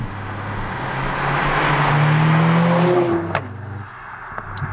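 A 2020 Mercedes CLA45 AMG with its powerful four-cylinder engine pulls hard, the loud, close engine note climbing through the revs, then dropping sharply with a brief pop on the shift before settling at a lower, steady hum.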